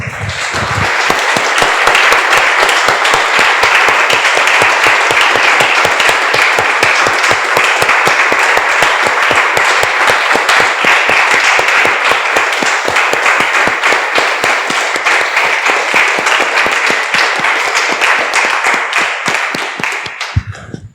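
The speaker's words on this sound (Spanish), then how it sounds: "Damos un aplauso, hermanos." Sustained applause from a church congregation, a dense steady wash of clapping that holds at full strength for about twenty seconds before stopping abruptly.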